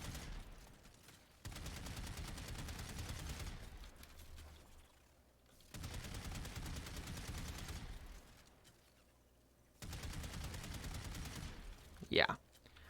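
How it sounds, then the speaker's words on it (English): Sobek shotgun in Warframe fires in three long sustained bursts of rapid, heavy blasts separated by quieter gaps, ending with a short sharp spike. "It doesn't sound like a shotgun anymore. It sounds like a fucking flat cannon."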